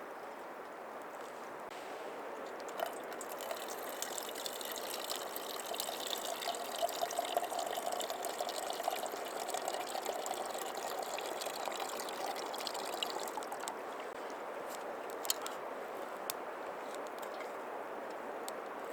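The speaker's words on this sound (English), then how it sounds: "There's another set of rapids right there I can hear." River rapids rushing with a steady, broad wash of water at a moderate distance, continuous and unbroken throughout with no voices.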